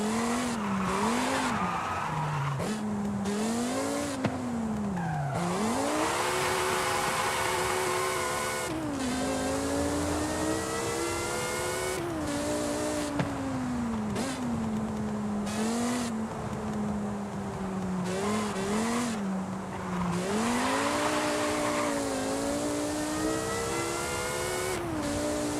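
Racing car engine in Forza Horizon 5 running with modified cams and stock long gearbox ratios, revving hard through repeated upshifts as the pitch climbs and drops, with tire squeal over a steady, loud, continuous drone and no talk.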